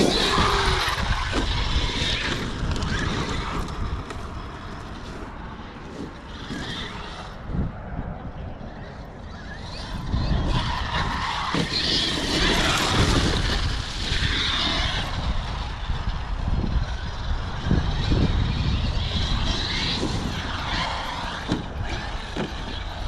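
An RC car fitted with a Hobbywing 1100KV motor runs outdoors in a continuous loud, rushing whine that swells under throttle and then settles. It carries on for over twenty seconds with broadband wind-like noise.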